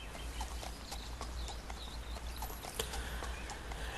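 Horse hooves clip-clopping in Second Life, a quiet, steady walking rhythm of hoofbeats over soft ambient background, with no talking.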